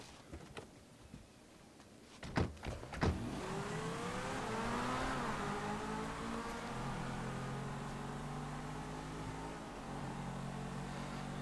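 Cars in the video game GTA V rev up and race away: a few sharp knocks, then loud engine roars climbing in pitch and holding steady, close and continuous, with no talking.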